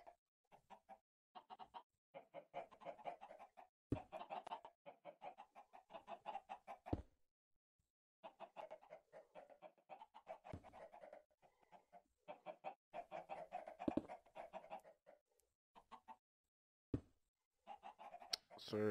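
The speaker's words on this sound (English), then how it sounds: "Stupid chicken, stop." A Minecraft chicken clucks in repeated short bursts with brief pauses between them, plainly audible and isolated against a quiet background.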